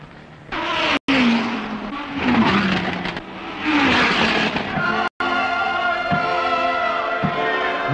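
Ford Rondeau race cars run on the circuit during the 1983 24 Hours of Le Mans, with loud engines rising and falling as the cars accelerate and pass by, followed by a sustained high-pitched engine whine.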